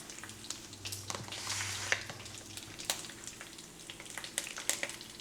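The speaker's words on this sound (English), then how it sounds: "I went ahead and put the tomato paste in here, and I let it fry for about a minute or two" Tomato paste fries in a pot with quiet crackling sizzle and scattered pops, plus occasional stirring scrapes, close but fairly faint.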